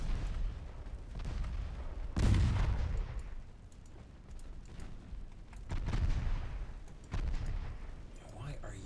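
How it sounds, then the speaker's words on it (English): Torpedo detonation in the naval battle game Ultimate Admiral Dreadnoughts, deep booming blasts rolling over a constant rumble of gunfire, with a voice talking through it. "Torpedo detonation."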